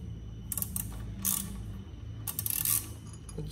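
Metallic ratcheting clicks and scraping of a wrench working a tight bolt on a Kawasaki Versys 650 during a brake pad change, in short bursts with pauses, close by and fairly loud, no voices.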